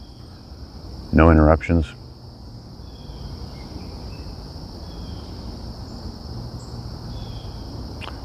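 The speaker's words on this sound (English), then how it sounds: "You can hear these crickets. It's a very constant drone." Crickets in a forest keep up a constant high drone through the whole stretch, steady and moderate, with a short burst of speech near the start.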